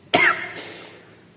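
A single sharp cough from a person with a cough, close and fairly loud, fading out with a short tail amid home-kitchen quiet while preparing a ginger and shallot herbal remedy.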